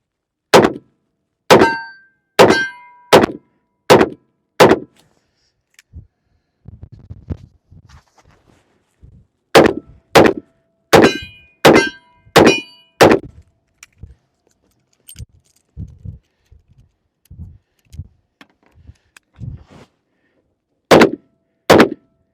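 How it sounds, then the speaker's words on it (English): A Taurus 327 revolver fires in sharp bursts of five or six rounds, each crack ringing off steel targets with a metallic clang, separated by quiet pauses with faint handling clatter. "we're just gonna bust some shots off of that steel"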